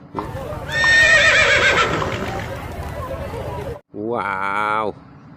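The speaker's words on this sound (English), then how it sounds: "Horse." A horse neighs loudly in a long, shaking whinny, and after a brief gap a second, shorter and more tonal neigh follows, heard close and clear against a low background.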